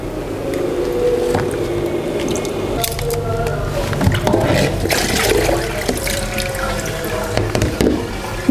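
Water draining and dripping off halua sweets being strained, a close wet trickle with squishy splashes and irregular drips, with faint low talk underneath.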